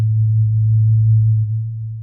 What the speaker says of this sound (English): If I cut out the harmonics of the cello,